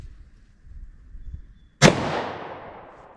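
A single sharp .357 Magnum shot from a 2-inch barrel revolver firing a light Winchester 110 grain load cracks out loud and close after quiet background. A long bright decay follows the shot.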